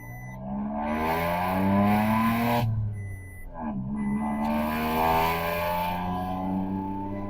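A car fitted with a Valvotronic exhaust pulls away in first gear, its engine note rising loudly and steadily, dropping briefly at the shift, then climbing again in a strong droning rev.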